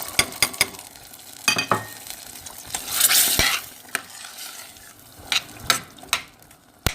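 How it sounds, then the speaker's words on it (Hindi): Boiled chickpeas stirred into a cooked-down tomato masala for chole, with a steady sizzle and clear repeated scrapes of a spoon against the pan, no voices. "चने डाल के अच्छी तरह भूनेंगे हम"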